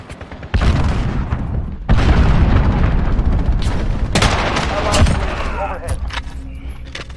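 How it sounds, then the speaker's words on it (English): Loud, close missile explosions and gunfire boom through a Call of Duty: Modern Warfare beta multiplayer match, with heavy rumbling blasts, crackling debris and rapid shots layered under game voice announcements. "Missile launched."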